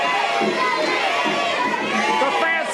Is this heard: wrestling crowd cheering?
yes